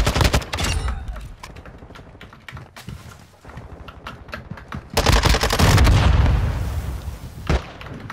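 Video game gunfire in a gun game match, sharp close shots in quick bursts with a lull in the middle, then a heavy loud volley and a booming hit near the end.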